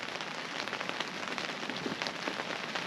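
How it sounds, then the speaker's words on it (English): Steady rain patters densely on a surface at a backcountry hunting camp in Alaska, a continuous soft hiss with scattered drips and no voices. "you can maybe hear the rain"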